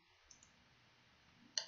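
A single sharp computer mouse click sounds near the end, close and crisp against near silence, after a couple of very faint ticks earlier.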